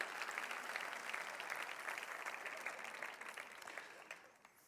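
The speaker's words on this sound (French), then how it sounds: "Comment on a un bon applaudissement pour la parole de Dieu." A congregation at a French-speaking church service claps for the word of God, a faint, steady patter of applause that fades toward the end.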